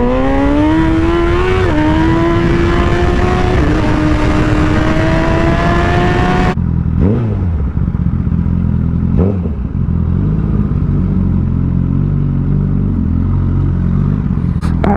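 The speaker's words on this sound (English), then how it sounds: "I can launch faster than freaking launch control." A 2019 Honda CBR1000RR SP motorcycle launches hard, its engine note climbing steeply through several quick upshifts, loud and close, then cutting off abruptly into a lower, rougher idle with faint blips.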